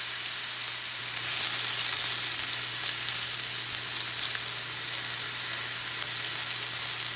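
Sausage, onions and mushrooms fry in a pan, giving a steady, close, even sizzle with a faint low hum underneath and no talking.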